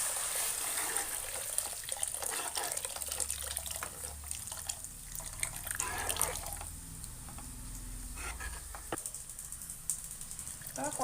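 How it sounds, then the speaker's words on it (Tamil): Water poured into a simmering egg curry in a pan, giving a steady splashing, running-water rush over about ten seconds with small clinks, close and moderately quiet. "குழம்புக்கு தேவையான அளவு தண்ணி சேர்த்துக்கிறேன்."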